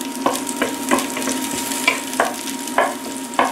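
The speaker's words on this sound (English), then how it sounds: "Just for a couple minutes, stir fry the jiu chai" Garlic chives (jiu cai) stir-fry in vegetable oil with a steady close sizzle, broken by regular scraping clacks of a spatula against the pan roughly every half second, with no talking.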